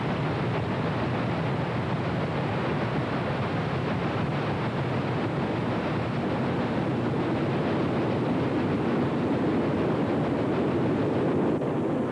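A Chesapeake and Ohio steam train rumbles steadily past, a broad continuous roar with no letup and no voices.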